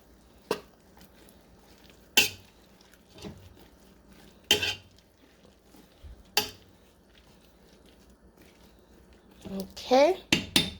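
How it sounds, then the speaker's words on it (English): Okra cooking for okra soup, stirred in a pot with sharp spaced clinks of a utensil against metal, a busier cluster of scrapes and taps at the end, close with a low background hiss. "Let's add our okra. We're not doing a lot of fry this time around. Let's just let the okra cook."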